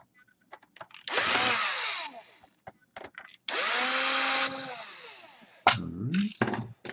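A power screwdriver removes screws from an Asus K53E laptop in two whirring bursts that rise and settle in pitch, followed by scattered clicks and small handling knocks close by.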